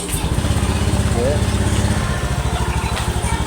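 A Honda Beat eSP scooter engine starts and settles into a steady, close, throbbing idle, with someone speaking over it.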